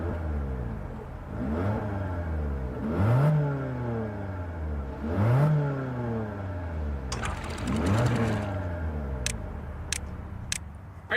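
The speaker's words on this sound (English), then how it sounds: "let's check out the exhaust note." A sporty car's exhaust roars as the engine is revved repeatedly, four rising and falling sweeps in steady succession from close by, with a few sharp clicks near the end and no talking.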